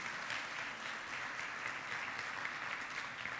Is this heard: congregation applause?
yes